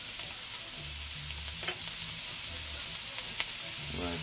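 Sausage browning in a frying pan gives a steady, loud sizzle and hiss close by, with occasional low rumbles from stirring underneath.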